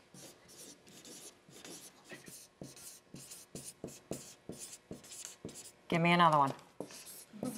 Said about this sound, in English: Let's write down a couple in a row.